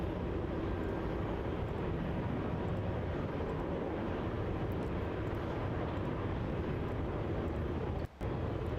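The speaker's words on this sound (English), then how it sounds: "on departure now, we have a Qantas 737-800" A Qantas Boeing 737-800 jet departing Melbourne Airport, a broad, steady engine roar heard from a distance, continuous throughout with one brief dropout near the end and no voices.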